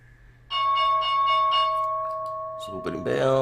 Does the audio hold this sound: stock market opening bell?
yes